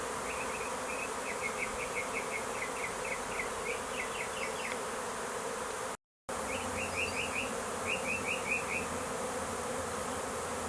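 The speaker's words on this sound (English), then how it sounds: "Lots and lots of bees flying through the air." A large swarm of honeybees flies through the air toward an empty hive outdoors, a steady dense buzzing throughout with bursts of closer individual bee passes. The sound cuts out briefly partway through.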